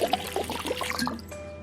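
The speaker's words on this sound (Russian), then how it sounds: "наливай сюда воду" Water poured into a container to measure out one litre, giving a short, fairly loud splashing pour with trickling that thins out and stops toward the end.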